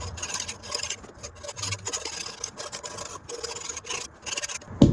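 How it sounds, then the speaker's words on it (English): Metal file rasping across steel while shaping a DIY forge, a steady back-and-forth scraping in close, even strokes with a gritty texture and a sharp knock at the end. "for the sake of the video, I'm gonna use a file"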